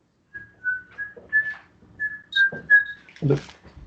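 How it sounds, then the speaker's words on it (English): Someone whistles a short, wandering tune in clear, thin notes, close by, with a few soft noises between phrases. "Who's whistling?"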